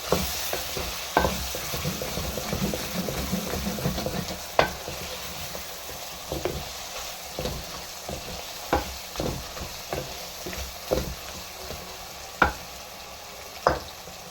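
Eggs fry in a pan for an aloo anda matar curry, with a continuous sizzle and a series of regular utensil scrapes and clinks from stirring, close and clear, without speech.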